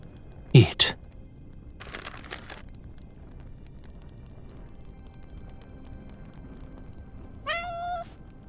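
Cat meows in the video game Love and Deepspace: a short rising-falling call near the end, with faint earlier clicks and soft game ambience underneath.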